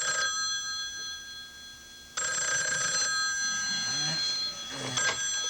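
A telephone rings with bright, tonal electronic bursts in a quiet room, sounding in several separate rings with short gaps between them.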